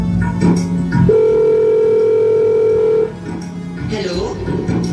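A phone call placed from a mobile phone to a son: a steady electronic ringing tone holds for about two seconds over faint background voices, then stops.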